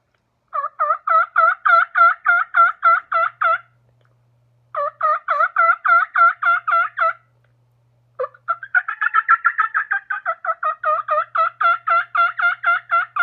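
Turkey hunting call mimicking a wild turkey: bursts of rapid, evenly spaced yelps and clucks, then a rolling purr blending into more clucks, close and loud with clean gaps between sequences.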